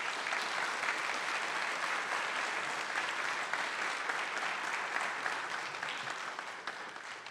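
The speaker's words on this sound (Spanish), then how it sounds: "Un fuerte aplauso, por favor." An audience at a public forum on security and justice in Mexico City applauds a speaker's introduction with sustained, even clapping from many people that fades slightly toward the end and has no speech over it.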